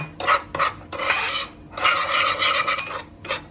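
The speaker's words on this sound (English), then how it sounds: "And just mix it together. It's almost like an orange crumble topping." Orange crumble topping for an orange loaf cake being mixed in a bowl: close, gritty scraping and rubbing strokes in uneven bursts, with short pauses between.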